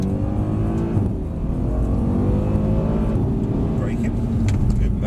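A Mercedes-AMG 63 accelerates away with a rising engine roar and climbing tone, heard close from inside the car, while people talk over it.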